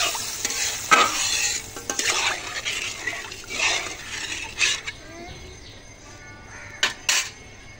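Water poured into a pan of frying spice paste, with a steady close sizzle, scraping stirring strokes and occasional sharp clinks of a utensil against the pan, no voices.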